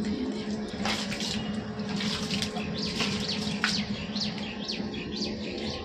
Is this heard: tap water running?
yes